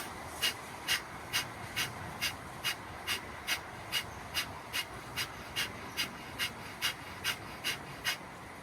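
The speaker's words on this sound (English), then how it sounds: "let's move into our third round of the Kapalabhati breath" Kapalbhati yoga breathing: a steady series of about twenty sharp, forceful nasal exhales at an even quick rhythm, close and fairly quiet, with no talking.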